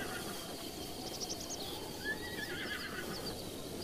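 A horse whinnies nearby with a rising, wavering neigh against a constant rumbling background, briefly standing out before fading back into the noise.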